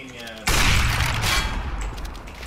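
A grenade detonating in Counter-Strike: Global Offensive, a sudden close, loud blast that hits hard and then rolls into a booming, crackling decay over about two seconds, with players talking over the game audio.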